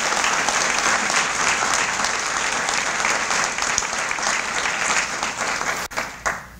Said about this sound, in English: Let's have one more round of applause for them.